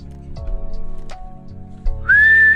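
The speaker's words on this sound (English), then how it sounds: "I'm blowing the whistle." A whistle is blown near the end, a loud, sustained single tone that rises and then holds for about half a second. Quieter background sounds come before it.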